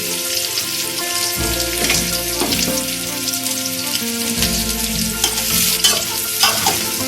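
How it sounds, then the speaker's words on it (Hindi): Onions sizzle loudly in hot cooking oil in a pot, a dense steady frying hiss with a few stirring scrapes and clinks, no voices. "अब इसमें मैं प्याज डाल लूँ"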